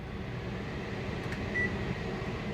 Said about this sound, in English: so I make my tea in the microwave